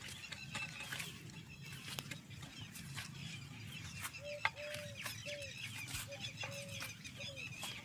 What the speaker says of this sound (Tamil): நம்ம ஏரியாவில் நிறைய மயில் இருக்குங்க மயில் எப்போவுமே கூவிட்டே தான் இருக்கும்